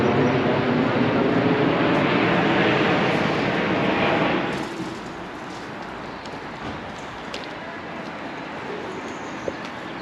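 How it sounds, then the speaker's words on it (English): An airliner on approach roars low overhead near Richmond Park in London, a loud broad rush that fades sharply about halfway through into quieter outdoor background noise. "every 60 seconds, maybe less actually, maybe 45, there's a plane landing"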